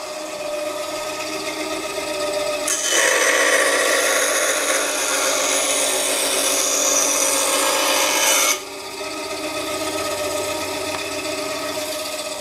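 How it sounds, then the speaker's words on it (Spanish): A band saw powered by a portable power station cuts wood. The steady motor hum runs throughout, and a loud rasping cut rises over it for about six seconds before the saw drops back to an idle whir. "nuestra estación de energía está tirando perfectamente de nuestra sierra de cinta. Vamos a hacer otro corte."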